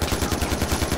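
Rapid automatic gunfire in the video game Far Cry 4, a loud, close burst of about nine evenly spaced shots within a single second.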